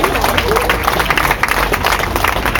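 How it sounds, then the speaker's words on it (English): A street-market audience at Brick Lane Market in London claps together, a dense, loud patter of hands that holds steady for a couple of seconds. "You can clap."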